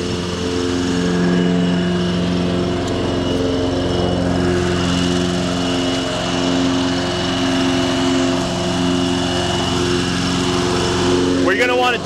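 A riding lawn mower tractor's engine runs steadily as it drives, a close, loud droning hum with shifting pitch, with people talking over it intermittently.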